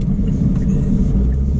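Steady low engine rumble and road noise from a 2018 Kia Stinger GT driving smoothly, heard from inside the cabin with no talk.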